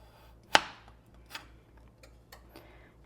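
A knife slicing vegetables thinly on a board for a hobo casserole: one sharp, close cut followed by a few softer, spaced taps in an otherwise quiet kitchen.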